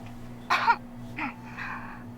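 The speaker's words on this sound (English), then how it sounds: "She coughed." A woman's short cough followed by a couple of softer throat-clearing sounds, close by, over a faint low electrical hum, in the visual novel The Devil on the G-String.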